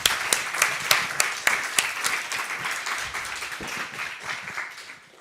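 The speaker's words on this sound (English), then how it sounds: "Applause for him, please." An audience at a Volt Belgium general assembly applauds. The clapping starts strong with distinct claps, then settles into a steady patter and fades out over a few seconds.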